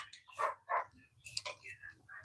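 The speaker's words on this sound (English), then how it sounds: "now they're barking at each other" Two dogs indoors bark at each other in a quick exchange of a few sharp, close barks, with faint voices and household noise in between.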